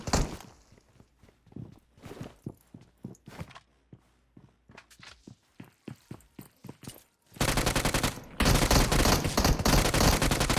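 M16 rifle fire in the mobile battle-royale game PUBG Mobile: a long run of sharp single shots spaced irregularly, then a dense, loud continuous burst of automatic fire near the end, with no talking.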